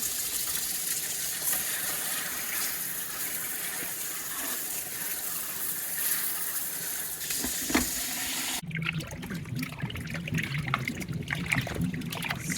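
Potatoes are rinsed under a running kitchen tap, a steady close rush of water that changes to a lower, splashier pour as the flow hits them, with no talking.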